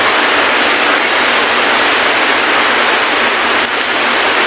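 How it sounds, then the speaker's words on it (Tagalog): Dense, loud rain hisses steadily and close, a continuous downpour with no voices. "lumakas na ang ulan"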